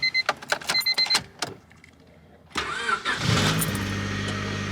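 A 1997 Honda Civic Coupe EX engine cranks and fires after several sharp clicks and clunks and a pause, then settles into a steady, close idle with a rough mid-frequency hum.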